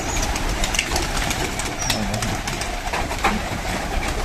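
A pigeon just caught from among its feed coos in low, muffled murmurs, close by, mixed with sharp rustling and handling clicks.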